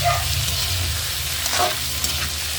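Chicken pieces hit hot oil in a pan for chicken sotanghon, a loud close sizzle with stirring scrapes throughout and no talking.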